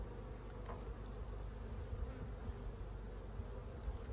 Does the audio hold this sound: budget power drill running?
no